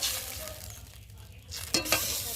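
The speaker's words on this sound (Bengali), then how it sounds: "একটু খুন্তি দিয়ে ভালো করে নেড়ে দেবো" A spatula stirring tilapia fish curry in mustard gravy just after water goes in, a low bubbling simmer with two quick scraping strokes near the end.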